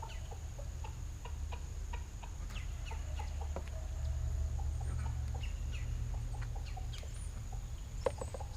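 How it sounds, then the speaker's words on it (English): Backyard chickens in an autumn vegetable garden cluck and chatter in a busy, irregular stream of short calls, moderately distant over a low steady background hum, with no speech. "My birds are going crazy over there."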